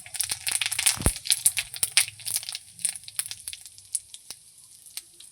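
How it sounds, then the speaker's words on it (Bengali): Bay leaf and whole cumin seeds hit hot oil in a pan as a tempering, giving a dense sizzling crackle with sharp pops and crinkly bursts, loud at first and thinning out over a few seconds. "এখানে তেজপাতা আর গোটা জিরে ফোড়ন দিয়ে রান্না করব"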